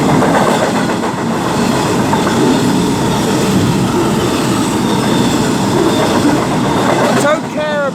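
British Rail Class 57 locomotive 57307 passes through Stafford station on the West Coast Main Line, a loud, close rumble with rhythmic wheel clatter and a squeal near the end.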